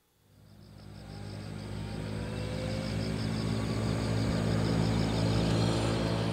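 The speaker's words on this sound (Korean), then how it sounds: "전남 고흥의 하늘에 울리는 프로펠러 소리" An electric-powered unmanned aircraft built by the Korea Aerospace Research Institute flying over Goheung, South Jeolla, its propeller droning steadily after fading in quickly, holding a continuous tonal hum with no talk.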